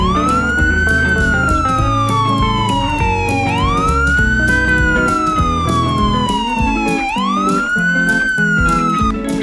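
A loud electronic police siren wails in repeating rising and falling sweeps, with a shrill, toy-like tone.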